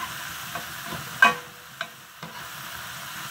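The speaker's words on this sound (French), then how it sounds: "Il ne faut pas les faire frire beaucoup, hein." Vegetables fry lightly in a pan while being stirred, a soft steady sizzle broken by a few clinks and scrapes of the utensil against the pan, with no speech.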